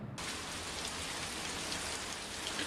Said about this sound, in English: This is outdoors at night. As you can see, it's raining.